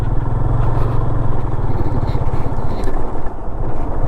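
A motorcycle ridden along a forest road in Karnataka, its engine droning loudly and steadily up close, with rumbling wind and road noise and no break.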